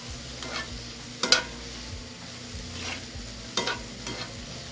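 Beef being stirred in a hot pan, a soft sizzle running underneath while a spoon scrapes and knocks against the pan in two distinct bursts.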